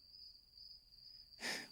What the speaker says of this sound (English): listen to the crickets chirp